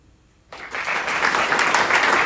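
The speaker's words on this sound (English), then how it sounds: "Round of applause." After half a second of near silence, an audience at a high school college commitment night breaks into steady applause that swells and holds at full strength through the end.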